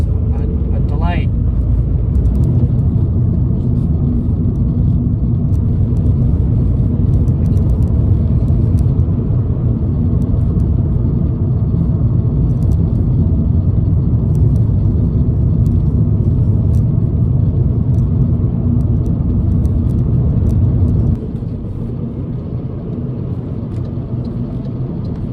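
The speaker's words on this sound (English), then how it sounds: "I think I shall conclude my mini road test of this 2018 MG3 here." A 2018 MG3 Form Sport 1.5 VTi driving on the road gives a steady low cabin rumble of engine and tyres throughout, dropping slightly quieter near the end.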